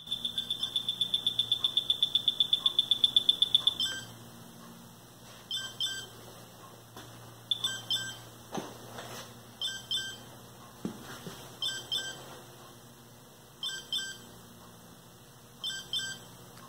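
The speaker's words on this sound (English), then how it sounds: "I wish it would shut off after a few times or wait to start beeping again if the level is moved." A Milwaukee digital level gives electronic beeps, first a fast run of sharp, evenly spaced high tones, then short bursts of repeated beeps separated by pauses, with faint handling noises between them.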